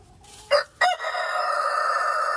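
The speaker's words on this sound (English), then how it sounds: "It's cold this morning, ain't it, Rooster? Tell them about it" On a cold morning, a rooster crows nearby, a loud rising call that holds steady, following a couple of short clucks.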